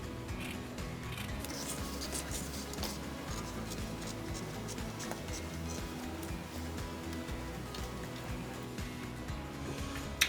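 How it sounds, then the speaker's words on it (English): Fabric scissors make small, quick snips around a collar seam, a busy run of close, crisp clicks and cuts with a faint voice in the background. "They only need to be small little snips."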